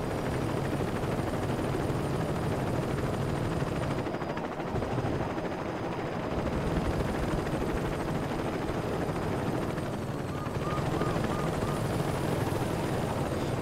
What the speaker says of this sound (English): as soon as we get in, the helicopter shows up